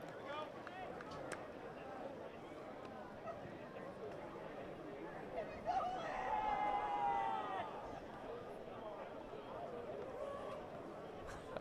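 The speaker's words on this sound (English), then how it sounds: "I love the mics we have down here in the crowd. You can hear every conversation." Fans at a Welland Jackfish versus Chatham-Kent Barnstormers baseball game chat near field-level microphones, producing a low, steady hubbub of conversation with a broadcaster talking over it.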